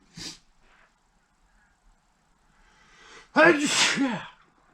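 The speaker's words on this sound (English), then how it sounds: "Excuse me, gotta sneeze." A single loud sneeze with a voiced burst, preceded by a brief sharp intake and quiet pause.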